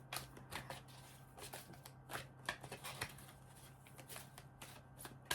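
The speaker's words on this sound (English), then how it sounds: "I am busy shuffling this Archangel Power Tarot card deck." An Archangel Power Tarot card deck gets shuffled by hand in quick, crisp riffling bursts, a series of close, soft flutters and snaps spread irregularly across several seconds with a faint steady hum underneath.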